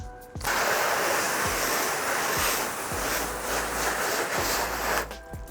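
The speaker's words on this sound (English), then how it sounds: "Let's spray some water on the hood" A steady, hissing spray of water pours continuously onto a car hood for several seconds, close and fairly loud, with no talking.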